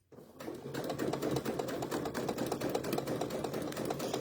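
A sewing machine stitches in a fast, even mechanical rattle, close and steady, starting from near silence and running continuously.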